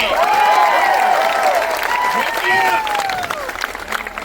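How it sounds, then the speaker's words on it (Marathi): Crowd applause at an outdoor protest rally, dense clapping with cheering voices on top, loud and sustained before slowly thinning out. "जोरात टाळ्या वाजून इथून टाकून द्या"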